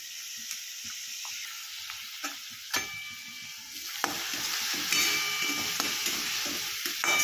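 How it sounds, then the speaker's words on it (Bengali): Leafy greens frying in hot oil for chicken patiala, giving a steady broadband sizzle with intermittent stirring scrapes and clinks that grow louder and denser in the second half, with no voices. "শাকটা একটু ভাজা ভাজা, একটুখানি নরম করে নিতে হবে।"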